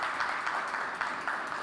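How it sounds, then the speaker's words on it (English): Audience applause for event sponsors, a steady round of clapping from a moderate crowd in a hall, fairly soft and continuous for its whole short length. "A round of applause for our platinum partners,"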